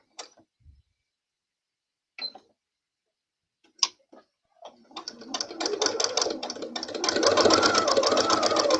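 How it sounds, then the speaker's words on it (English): A sewing machine runs steadily along a seam at close range, its rapid needle chatter building louder after a few scattered knocks and handling clicks at the start. "very carefully, I'm going to sew that seam all the way down"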